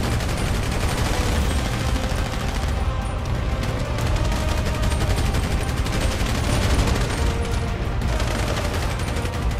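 Dense gunfire in the video game Grand Theft Auto V, with continuous loud shooting and machine-gun bursts layered over heavy action noise throughout.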